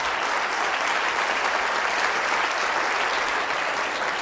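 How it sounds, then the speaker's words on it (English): An audience applauds warmly for a speaker's colleague, a dense, even wash of many hands clapping at steady volume throughout, with no talking over it. "So please, an applause for Marta"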